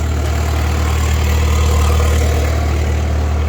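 A Cummins 5.4 liter turbo diesel on a Hagie detassler machine idles loud and close, a steady low drone with a constant rumble and no change in pace.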